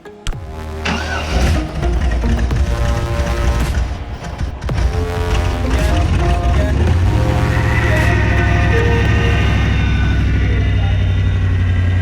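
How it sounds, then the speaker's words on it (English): A 1996–99 Vortec 5.7 350 V8 starts and runs loudly up close, with a steady low rumble and a rising whine from an empty power steering pump, while voices talk over it. "Power steering pump's empty, so it's whining real loud"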